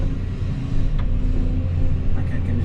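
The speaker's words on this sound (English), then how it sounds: "I'm just gonna pull the truck over." A pickup truck's engine rumbles low and steady nearby as it pulls over on a pond construction site, a continuous deep drone with faint higher noises on top.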